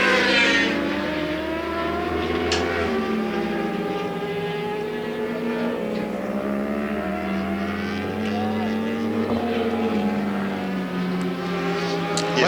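Racing motorcycles at Baskerville, Tasmania, during a two-hour endurance race scream past on the track. Several high-revving engines overlap loudly and continuously, rising and falling in pitch as they pass and fade.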